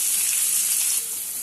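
Onions dropped into hot oil with fennel seeds in a pan, giving a bright, steady sizzle that is loud and close throughout, easing slightly toward the end with no talking.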